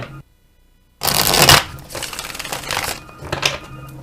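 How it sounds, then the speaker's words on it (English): Tarot cards are shuffled briskly after a moment of quiet, a crisp riffling burst followed by softer flicking and handling sounds. "Last shuffle."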